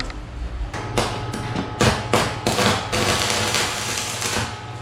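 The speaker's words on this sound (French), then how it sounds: "Je vous amorce une électrode" A stick welding electrode is struck against the workpiece on a table to start an arc, giving a run of sharp, loud, close taps and crackles that build into a sustained buzzing sizzle, with no talking.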